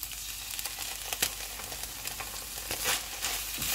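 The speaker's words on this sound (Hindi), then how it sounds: "इनको 3 मिनट तक भूनेंगे।" Chicken filling with hot chili sauce sizzles steadily in a pan, with soft stirring scrapes through the sizzle. It is close and constant, with no voices.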